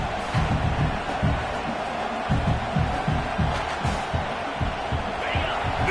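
Football stadium crowd roaring during a rivalry trophy game, a broad constant din with rhythmic thumping and stamping pulses beneath it, and no voices standing out.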